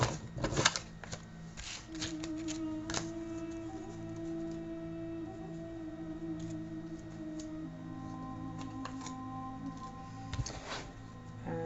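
Tarot cards are shuffled before a draw: quick papery riffles and clicking card snaps burst at the start and again near the end, with quieter handling and slow, uneven taps in between and no talking.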